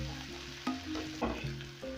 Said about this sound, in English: So I'm going to fry this till my onions are ready